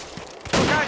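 A short burst of gunfire in the survival video game DayZ, a sudden loud crack that breaks in after a quieter moment.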